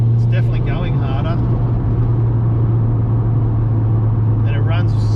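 A turbocharged Honda car engine runs steadily in fourth gear at low boost, a loud continuous drone and rumble heard from inside the vehicle, with brief talk over it at the start and end.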